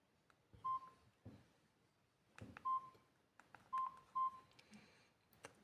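Several short, quiet electronic beeps from a Samsung GT-E1081T phone being switched on, spaced irregularly, with soft button clicks and handling noise between them.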